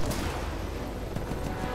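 Grenade launcher fire in the Warface shooter game: a dense, loud burst of explosive gunfire and blasts that fills the whole clip without pause.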